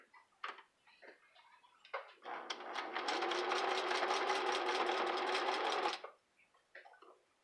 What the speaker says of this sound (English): I'm going to do a straight across seam and kind of crisscross just to get the bottom to hold together